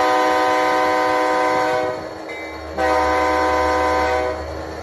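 An Overland MK5000C model locomotive with a Tsunami 2 sound decoder blasts a loud sustained multi-chime horn over engine rumble, breaks off briefly, then sounds again while the diesel drone continues.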